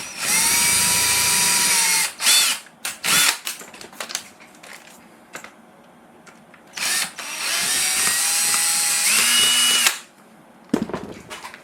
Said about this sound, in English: Just making sure I get the right size drill bit.